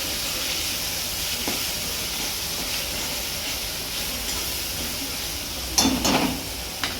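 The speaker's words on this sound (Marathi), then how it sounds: "टमाटर चांगलं परतून घ्यायचं." Tomatoes sautéing in a pan in a home kitchen, giving a steady broad sizzling hiss with a few short louder crackles and a stir near the end, no talking.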